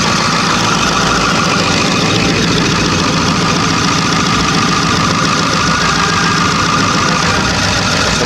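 A broken-down truck's engine idles loudly and steadily while warming up, a constant close rumble with a rough knocking texture throughout and no talk.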